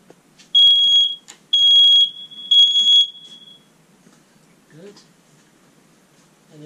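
A smoke alarm beeps loudly in three long piercing bursts, followed by quieter voices talking nearby.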